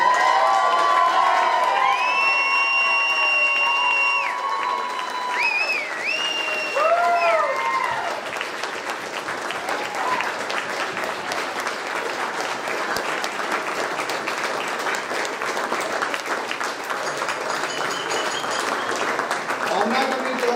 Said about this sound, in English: I'm not going to interrupt that applause